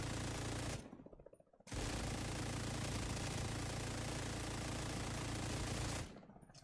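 A gun in The Division 2 fires in long sustained bursts at a very high rate of fire, a dense continuous roar broken by one short pause and then resuming, loud and close.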